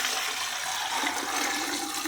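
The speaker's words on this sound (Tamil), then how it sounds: "இப்போ தண்ணி ஊற்றிடும்." Water poured into a cooking pot (kundaa) packed with palmyra sprouts, a steady rushing splash that holds at an even level for its whole length, close by and with no talk over it.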